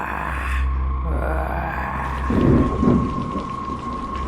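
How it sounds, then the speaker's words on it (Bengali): Rain falls steadily in a graveyard scene of a horror audio story, drizzle turning heavier, with a low rumble of thunder underneath and a louder swell of downpour midway; no speech. "ঝিরিঝিরি বৃষ্টি এখন কিছুটা জোরে পড়তে শুরু করেছে।"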